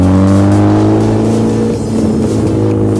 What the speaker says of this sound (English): Let's go listen to the car for a little bit right here.